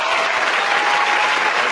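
An applause sound effect, a dense burst of many hands clapping at an even, full volume for a couple of seconds, alone without talk.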